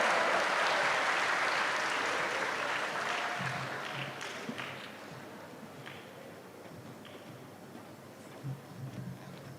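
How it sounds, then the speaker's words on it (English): Audience applause for a moderator closing a session at an international agronursing conference, a broad steady patter of many hands clapping that gradually thins out over several seconds. "Give applause to our moderator"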